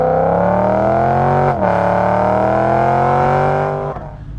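A BMW E92 M3's high-revving V8 engine pulls hard through the revs, a loud, steady rising howl with a brief dip at a gear change before climbing again and easing off at the end.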